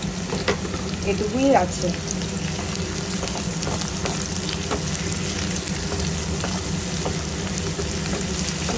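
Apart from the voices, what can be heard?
fish frying in oil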